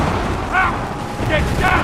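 Cannon and musket fire in the Assassin's Creed III video game, a low booming rumble with crackling shots, heard under shouting voices during a brief battle moment.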